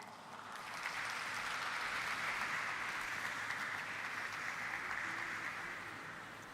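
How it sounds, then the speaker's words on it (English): An audience at a stock exchange listing ceremony for Akums Drugs and Pharmaceuticals claps in a steady round of applause, swelling quickly and then fading, with no voices over it. "Let's welcome the representatives of Indus Law on stage with a round of applause"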